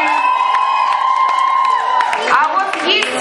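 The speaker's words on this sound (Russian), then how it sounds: "Ну и диджей Вова, аплодисменты ему отдельные." Audience at a camp counselors' concert cheering and shouting, with crowd noise and some clapping, loud and continuous throughout, as if in a hall full of children.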